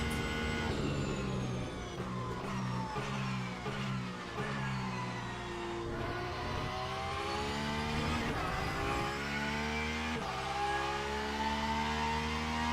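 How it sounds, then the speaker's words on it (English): A Porsche flat-six race car in Le Mans Ultimate, fully upgraded, revs hard up and down through the gears with a steady high gearbox whine, loud and close, with no talking. "It is a brilliant Porsche flat 6 sound. Yeah, the gearbox is whining."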